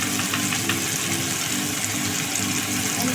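Water poured into a bowl while cooking a Bengali mustard pabda fish recipe: a close, steady rushing and splashing pour that lasts about three seconds with no voices.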